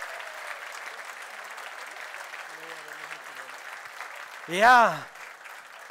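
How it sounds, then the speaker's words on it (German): Crowd applause at a gastronomy award ceremony as a Hanover inn is named winner, a faint, steady wash of clapping under the room, briefly interrupted by a short spoken word near the end. "Ich glaube, der Applaus könnte noch mal ein bisschen laut ausfallen."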